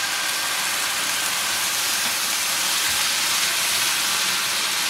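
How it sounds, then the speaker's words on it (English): Wine deglazing a hot pan of tomato, shallots and garlic gives a loud, steady, broad hiss of sizzling that holds without letup, close and with no talk. "it's time for the first deglazing and then reduction of the wine deglazing"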